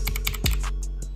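Crisp clicky typing on a small 60% computer keyboard, a quick run of several close, distinct keystrokes with nothing else in the background.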